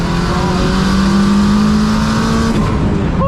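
A tuned 600bhp Honda Civic Type R sleeper roars past on the road, its engine note rising in a sustained loud drone that fades slightly at the end.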